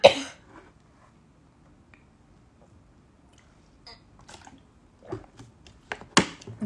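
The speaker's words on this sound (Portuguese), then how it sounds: "Ai, tô com um pigarro, um minuto." A woman clears her throat a few times during a talk, brief and close, after a sharp click at the start, with quiet pauses between the sounds.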